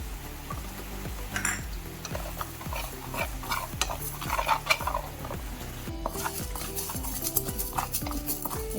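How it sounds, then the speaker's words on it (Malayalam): A spoon scrapes and stirs rice and lentils dry-roasting in a pan for homemade sambar powder, steady rhythmic metallic scraping with light rattling of grains, close and continuous with no talk. "അടുത്തത് നമുക്ക് ഒരു സ്പൂൺ അരി നമ്മൾ ചോറ് വയ്ക്കുന്ന അരിയാണ് അത് വറുത്തെടുക്കാം"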